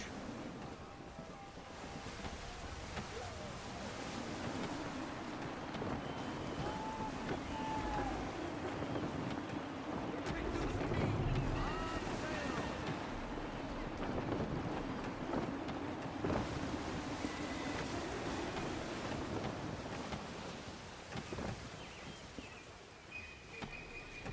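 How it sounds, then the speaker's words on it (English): Steady gusty wind rushing over a sailing ship in Assassin's Creed III, with a constant roar, surf and water beneath it and a voice speaking faintly now and then. "Gusty winds can be difficult to manage."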